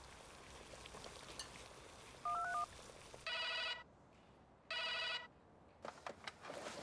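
A landline telephone rings twice in short, evenly spaced bursts, following a brief dialing tone over a faint background hiss; no one speaks.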